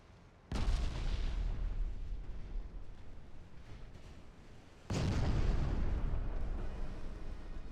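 Heavy naval gun salvos in Ultimate Admiral Dreadnoughts, two big booming broadband blasts with long rumbling decay, the second louder and closer, no talk.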